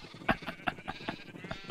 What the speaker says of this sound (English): This is Jeffrey. He's the special sheep in the flock